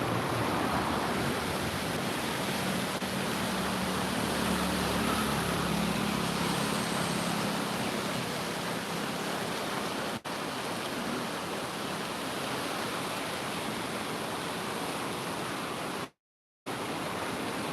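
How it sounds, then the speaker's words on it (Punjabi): Loud, continuous rushing roar of the Sutlej River in flood with dam water released, near Bunga Sahib, Rupnagar, a dense, unbroken wash of water noise with no voices. "ਪਾਣੀ ਬਹੁਤ ਜ਼ਿਆਦਾ ਡੈਮ ਦਾ ਪਾਣੀ ਇਸ ਟਾਈਮ ਵੀ ਛੱਡਿਆ ਹੋਇਆ"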